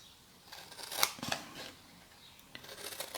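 Scissors cut through paper for a folded box, several close, crisp snips and rustling slices in quick succession, fairly quiet with no talk.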